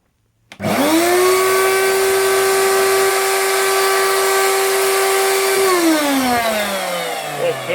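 A repaired Hoover vacuum cleaner switches on after a brief silence and runs at a loud, steady motor whine close by, then drops in pitch as it starts to wind down near the end, with no talking.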